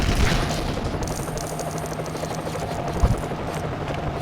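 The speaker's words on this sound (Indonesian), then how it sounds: "Helikopter baru coy." A steady rotor thrum of a helicopter in the Lego Batman video game, continuous and fairly loud, with a brief sharp pop near the end and no talk.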